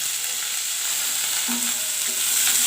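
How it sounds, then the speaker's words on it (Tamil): Onion, curry leaves and fresh coriander fry in hot oil, giving a dense, even sizzle throughout a short stretch, close up and without any voices. "இப்போ வெங்காயம் கருவேப்பிலை பச்சை மல்லித்தழை மல்லித்தழையெல்லாம் போட்டுக்கிறேன்"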